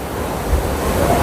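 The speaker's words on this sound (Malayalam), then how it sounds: "ഇതാണ് നമ്മുടെ വെള്ളച്ചാട്ടം" Waterfall in a park in Lisbon, Portugal: a steady, dense rush of falling water, loud and even throughout, with some wind buffeting the microphone.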